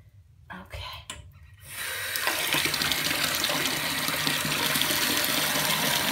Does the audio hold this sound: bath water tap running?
yes